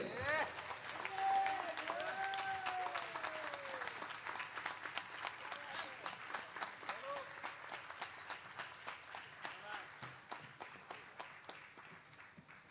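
Audience applause rings out at a live music event as a young drummer comes onstage, a dense, sustained wash of clapping that stays loud for several seconds and then thins gradually. A tonal musical line sounds briefly beneath it early on.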